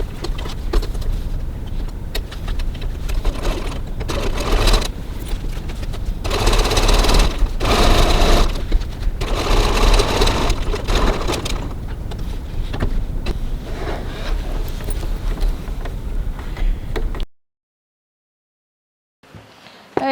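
A sewing machine stitching the side seam of a cross body bag, a close mechanical whir that rises and pauses in bursts of running stitches, then cuts off into brief silence near the end.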